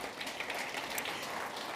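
Steady, diffuse applause from an awards ceremony audience honouring finalists, heard from a distance as a soft, even wash of many hands clapping.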